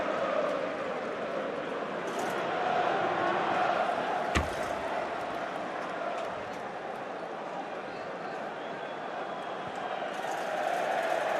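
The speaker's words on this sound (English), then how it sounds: "good warm applause all around Anfield greeting that goal" Steady crowd applause fills Anfield after a Liverpool goal against Tottenham in a 2008-09 Premier League match, a broad continuous wash of clapping and murmur from the stands, with one sharp knock partway through.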